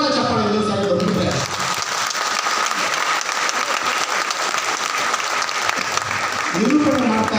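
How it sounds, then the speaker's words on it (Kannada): Loud, dense applause from a theatre audience at a Rotary club event in a packed auditorium, sustained for several seconds, with a voice talking over the start and again near the end. "ಜೋರಾದ ಚಪ್ಪಾಳೆ ಇನ್ನೊಂದು ಸಾರಿ ಬಂದಿದ್ರೆ"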